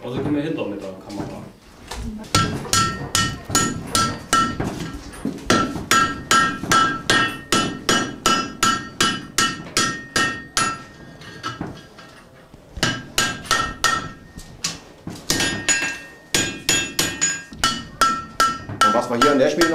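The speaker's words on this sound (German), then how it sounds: "das ist mit ein paar Hammerschlägen fertig." Repeated hammer blows on iron in a blacksmith forge at an open-air museum, ringing metallic strikes in quick bursts of steady rhythm, close and loud, with short pauses between runs and people talking in the background.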